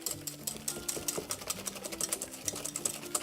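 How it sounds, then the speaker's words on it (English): Egg white whisked briskly in a bowl, a fast, steady run of light clinking, scraping strokes up close, with no one talking. "now we're gonna whisk this up"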